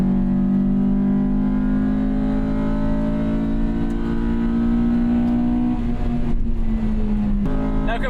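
A 1998 Acura Integra Type R (DC2) drones steadily from inside the cabin while driving, its engine and intake note holding a constant pitch that dips briefly near the end.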